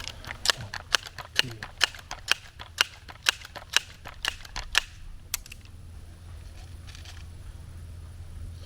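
Air rifle pellet shots strike a target at 97 yards in a rhythmic series of about eleven sharp, evenly spaced cracks, moderately loud, ending as a low hum continues alone.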